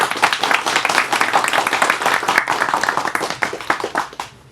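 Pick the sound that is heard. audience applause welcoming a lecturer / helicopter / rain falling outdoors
audience applause welcoming a lecturer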